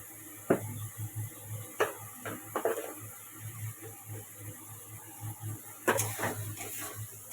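Fish curry gravy with salt added gets stirred in a pan, a spoon scraping and knocking against the metal in irregular bursts over a faint steady hum, close and fairly quiet, with no speech.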